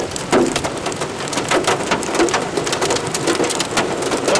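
Dime-sized hail pelts a storm-chasing vehicle in an Illinois thunderstorm, a dense, loud, continuous rattle of rapid impacts on the body and roof.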